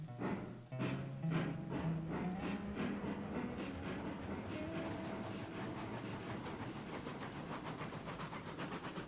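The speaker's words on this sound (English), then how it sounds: "I'm gonna pull the locomotive up a lot further though." Locomotive pulling a string of train cars in the Railroads Online video game, a steady rumble with rhythmic clickety-clack over the rails and a rising whistle-like tone near the start, continuous and fairly close.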